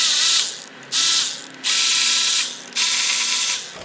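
A ratchet loosens the transmission pan bolts on a Ford 6.7 diesel with a 6R140 transmission, sounding as close, loud bursts of rapid clicking with short pauses between them.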